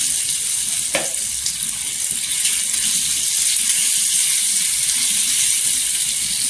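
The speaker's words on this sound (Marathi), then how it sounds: "तेलावर मिरची परतून घ्यायची" Green chilies frying in hot oil make a steady, close sizzle and crackle throughout, with a brief utensil clink near the start and no speech.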